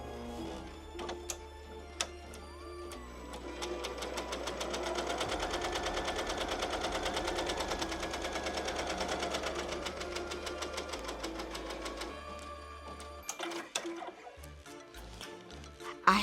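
A sewing machine stitches a pumpkin appliqué onto a Halloween T-shirt, running in a steady, close, mechanical whir through the middle stretch, with brief starts and stops at either end.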